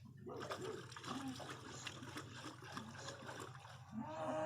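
Soapy water swirled around in a basin before washing a show chicken's feet, a steady close sloshing and trickling wash with a low hum beneath, continuous throughout and growing a little louder toward the end.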